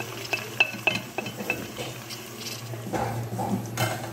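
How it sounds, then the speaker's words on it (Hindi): Medium tomatoes with chillies and turmeric fry in a pan for goat liver curry, with soft sizzling and a few light clinks of a spoon stirring, fairly quiet throughout. "ये अच्छी तरह भूनना है जब तक टमाटर बिल्कुल सॉफ्ट हो जाए"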